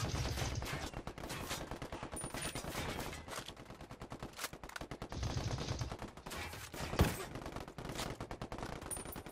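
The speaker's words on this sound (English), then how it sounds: "Who is shooting me?" Sustained automatic gunfire in Ghost Recon Wildlands, with dense rapid bursts aimed at the player filling the whole stretch, loud and continuous, broken by a few brief pauses and a sharp impact.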